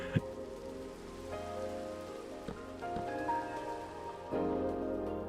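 In a building video game, rain patters steadily with a soft, continuous hiss, while occasional tonal game sounds and faint clicks rise over it.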